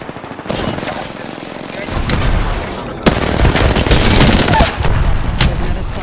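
Rapid automatic gunfire and bursts of shots in an Apex Legends firefight, loud and dense, with short pauses between volleys and a voice speaking over the action.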